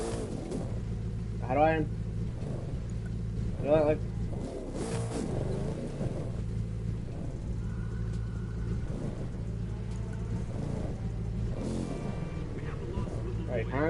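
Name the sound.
car engine revving in The Crew 2 video game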